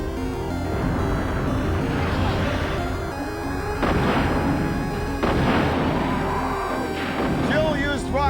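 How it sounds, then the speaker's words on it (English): A rocket launcher fires in Resident Evil 3: Nemesis. Heavy booming blasts land around the middle of the clip over constant game noise, and a voice talks throughout. "Jill used rocket launcher."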